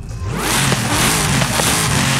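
Car engine revving hard in Forza Horizon 5, a car fitted with a very heavy engine, loud and close, a dense rising roar that fills the short stretch with no voices.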